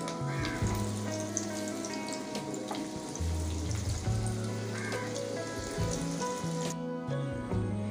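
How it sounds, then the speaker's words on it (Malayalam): Stuffed potatoes deep-fry in hot oil over a full flame with a steady, dense crackle and sizzle that continues throughout without any talk. "ബാക്കിയുള്ളത് നമുക്ക് അതേപോലെ തന്നെ ഫുൾ ഫ്ലെയിമിൽ വെച്ച് നമുക്കൊന്ന് വറുത്തെടുക്കാം"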